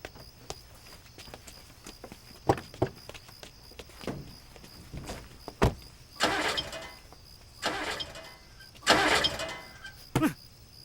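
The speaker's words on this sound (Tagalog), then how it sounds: "Ayaw umandar. Nadiskarga siguro yung baterya." A car engine cranks but fails to start, apparently from a dead battery, giving several separate grinding bursts between sharp clicks and knocks in a quiet setting.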